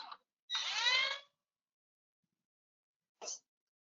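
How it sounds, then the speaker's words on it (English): A power drill runs in one short whirring burst while fixing a window frame flush with the inside of the opening, followed after a pause by a brief second touch of the trigger. "Just give me a drill."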